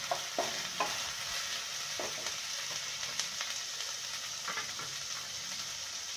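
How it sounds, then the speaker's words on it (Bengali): Ginger fries in mustard oil for matar paneer, a continuous bright sizzle with regular scraping taps of a spatula stirring the pan, close and alone without speech. "আদা ভাজা প্রায় হয়ে গেছে এবার আরো দিয়ে দিচ্ছি একটু সর্ষের তেল একটু বেশি করে দিয়ে দিচ্ছি"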